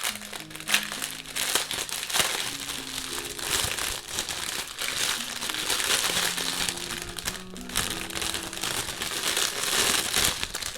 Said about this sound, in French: c'est pour ouvrir les emballages